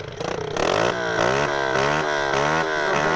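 Trail motorcycle engine starting up outdoors on a group off-road ride, a few sputtering pulses before catching into a loud, buzzing rev that rises and dips in pitch close to the microphone.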